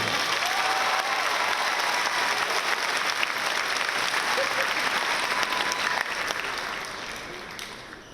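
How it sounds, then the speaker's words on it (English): A large graduation audience at Roosevelt High School, class of 2025, applauds the valedictorian with sustained, dense clapping and a few cheers, then fades gradually toward the end. "Clap your hands at this time for Alexandra Daly"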